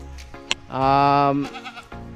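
A goat gives one loud, wavering bleat close by, lasting about half a second, with brief clicks and faint background noise around it.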